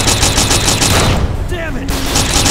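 Rapid bursts of gunfire from the arcade game Elevator Action Death Parade, loud and dense, pounding in a steady volley with a brief lull, mixed with game effects and voices.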